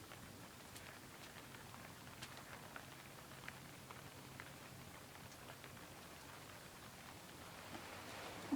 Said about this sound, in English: Now you can hear the rain, can't you?